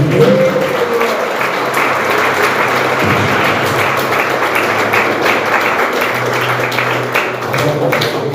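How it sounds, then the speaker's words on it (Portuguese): A church congregation applauds at a service, dense sustained clapping filling the room throughout with some low thumps, loud and close. "aplauda o nome do Senhor Jesus"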